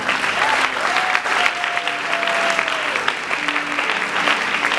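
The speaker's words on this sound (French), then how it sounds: "On acclame le Seigneur." Guests at a church wedding ceremony applaud loudly and continuously, many hands clapping together in a reverberant hall with faint voices underneath.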